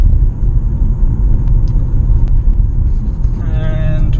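A plug-in hybrid car accelerates moderately, giving a steady low rumble of engine and road noise heard from inside the cabin, with a faint rising whine toward the end.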